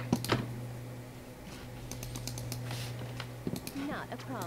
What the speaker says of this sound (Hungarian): hallatszik minden kattintás a videóba